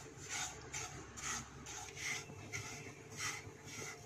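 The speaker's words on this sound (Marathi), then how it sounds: "गॅसची फ्लेम मंद करूया आणि गुलाबी रंगावर रवा भाजून घेऊया." Semolina roasts over a low flame in a pan while being stirred, giving a soft, rhythmic scraping and rubbing about twice a second, faint and steady with no talk.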